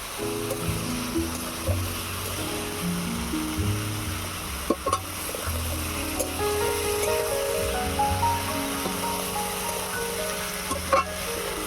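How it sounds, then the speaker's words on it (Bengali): Papaya, fig and fish curry ingredients sizzle steadily in a pan while being stirred, with occasional scraping clicks, close and continuous with no voices. "এবারে সব কিছুকে একসঙ্গে ভালো করে কষিয়ে নেব"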